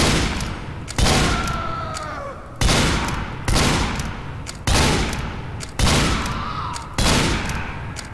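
The Ambassador revolver in Team Fortress 2 fires repeatedly at a steady pace of roughly one loud, sharp shot per second, each crack trailing off in a short echoing decay.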